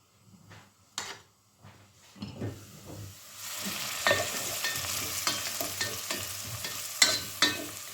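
Food sizzles and crackles steadily in a pan, with scattered clicks and stirring knocks; quiet at first, then a continuous louder frying hiss.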